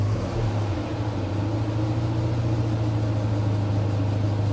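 Mazda RX-7 FC rotary engine running steadily near the microphone, a continuous low droning hum with a slight rise at the start, then holding at a constant pitch, no voices.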